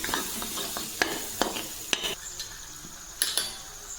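Masala spices fry in oil in a pan for restaurant-style rajma curry, with a quiet sizzle broken by sharp spoon clinks and scrapes against the pan at irregular intervals.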